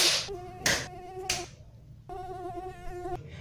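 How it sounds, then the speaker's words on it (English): Buzzing mosquitoes in a game trailer: two bursts of steady, high, whining drone, each opened by a sharp whooshing hit, loud and close with no talk. "Itty bitty black, buzzing, blood-sucking mosquitoes!"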